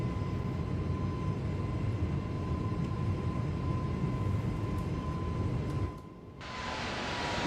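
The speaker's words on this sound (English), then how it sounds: "these engines sound amazing" Aircraft engines in Microsoft Flight Simulator 2024 drone with a steady roaring hum and a thin tone running through it. The sound cuts out abruptly near the end, then returns as a quieter hiss.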